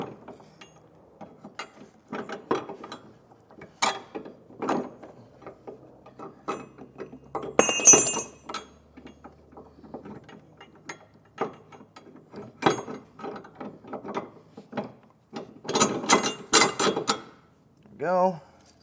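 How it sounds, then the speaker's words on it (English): Ratchet wrench clicks in repeated bursts while one bolt is threaded to hold a hidden trailer hitch receiver in place, with scattered metallic clanks and handling noise close by. "I'm going to sandwich this in place and get one bolt threaded through."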